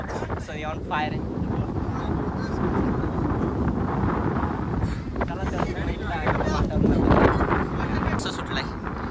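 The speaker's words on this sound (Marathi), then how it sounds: "मस्त वाऱ्याचा आनंद घेतोय" Strong wind buffeting the microphone at the top of a hilltop fort, a steady roaring rumble that swells near the end, with people talking over it.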